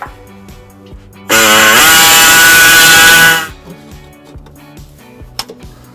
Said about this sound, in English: We're going to use an air saw to expand the hole.